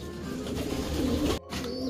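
Racing pigeons shut in a box, soft low cooing that murmurs continuously at close range with a brief dropout near the end, no talk.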